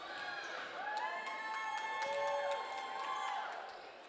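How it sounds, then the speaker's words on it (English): A crowd at a high school girls' volleyball match between Spanish Fork and Salem Hills cheers in an indoor gym, a swelling chorus of voices and shouts that rises, holds for a few seconds, then tapers off. "getting some nice cheers from the crowd"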